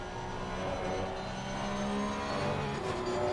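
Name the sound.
race car downshifting at Misano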